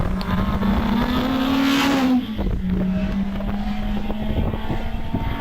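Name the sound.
yellow Peugeot 205 GTI racing at Harewood hillclimb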